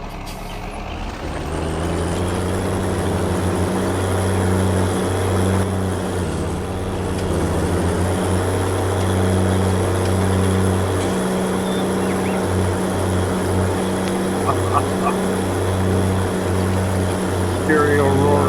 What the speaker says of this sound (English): the sound of these tractors alone being stereo next to each other is impressive